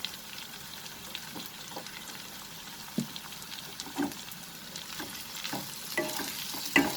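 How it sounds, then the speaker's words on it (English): Green chilies frying in a pan with prawn masala, onion and curry leaves, giving a steady soft sizzle with occasional stirring clicks and pops, close and moderately quiet, no talking. "Add the green chilies."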